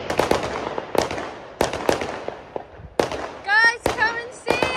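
Fireworks burst over London, heard from a rooftop: a series of sharp, loud bangs with crackling tails and a few whistling rockets climbing between them.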